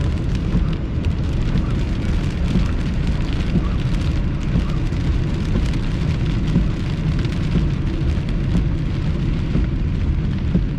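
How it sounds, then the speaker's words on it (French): Heavy rain from the tail end of a summer thunderstorm, caught during a tornado chase, pours in a steady, dense wash that stays loud and unbroken throughout, with no voices. "on voit la fin de l'orage"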